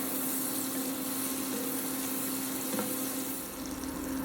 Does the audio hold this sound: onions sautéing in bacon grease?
yes